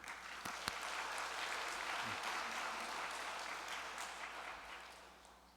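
A church congregation at a Korean evangelism rally applauds as three district pastors are welcomed to the stage, a sustained, fairly distant wash of clapping that builds and then gradually tapers off.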